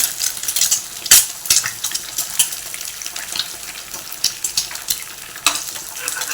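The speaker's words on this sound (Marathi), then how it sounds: "आणि भुर्जी करून घेऊया अंड्याची" Eggs fry and get stirred in a pan for Maharashtrian-style egg bhurji, a soft sizzle broken by repeated scraping and clinking spoon strokes, close and fairly loud, with no talking.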